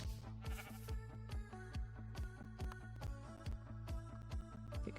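Sheep bleat repeatedly in a steady, rhythmic series of calls among trees on a farm, with no talking.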